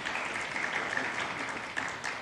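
A congregation claps along to a song during a Sunday church service, a steady dense wash of hand claps that holds evenly throughout with music faintly underneath.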